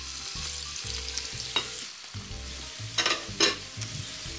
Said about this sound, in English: we can go ahead and just drop these pieces of halibut right in the pan